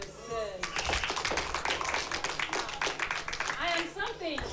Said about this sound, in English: Now, a round of applause for yourself.